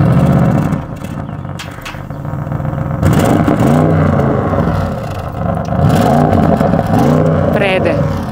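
An Audi RS6 C8 with the Performance package's louder exhaust revs repeatedly, several rising and falling engine sweeps, close and loud, with speech heard at times.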